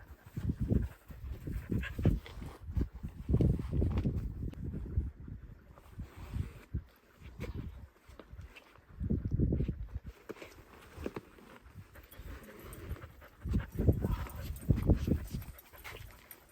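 A dog pants and whimpers close by in short, uneven bursts, with shuffling steps and rustling between them.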